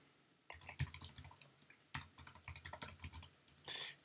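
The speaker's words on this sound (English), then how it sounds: "type in the website" Keys clack on a computer keyboard while details are entered into a WordPress site setup form, arriving in quick irregular bursts of close, crisp clicks with short pauses between them.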